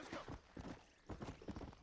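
Horse hooves clip-clop in a steady galloping rhythm in Red Dead Redemption on Xbox One, fairly faint in the game mix, with brief bursts of hoofbeats broken by a short gap.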